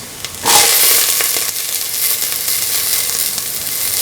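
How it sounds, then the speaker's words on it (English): Capsicum pieces drop into a hot pan for a beef, tomato and coconut milk stew. A sharp burst of sizzling starts suddenly, then settles into a steady, loud hiss with a few scattered crackles. "Now put in the capsicum pieces."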